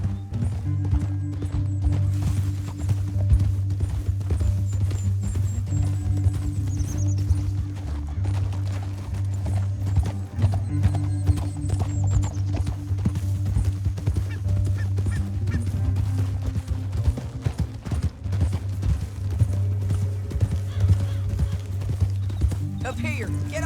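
Horse hooves clip-clop at a steady, repeated walking pace across a canyon in the Western video game Red Dead Redemption 2, with voices talking over them throughout and a low rumbling bed beneath.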